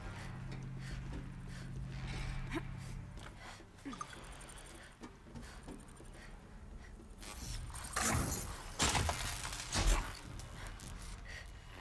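Mechanical machine creatures in Horizon Zero Dawn move about with whirring, ratcheting and clanking gear noises, a low hum underneath and a denser burst of metallic clatter near the end.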